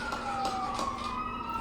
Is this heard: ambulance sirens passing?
yes